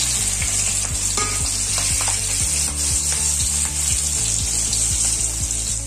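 Cut mirchi bajji go back into hot oil for a second deep-fry, a loud, dense, continuous crackling hiss close by, with faint rhythmic mechanical ticking beneath it and no speech.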